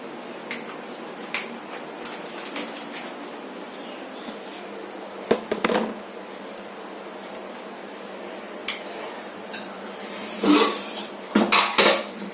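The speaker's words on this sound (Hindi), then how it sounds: "ऑलरेडी किचन में ना खड़बड़ आवाज हो रहा है" Sporadic clinks and clatters of dishes, pots and cutlery in a quiet kitchen, with a few louder bursts of clattering near the end.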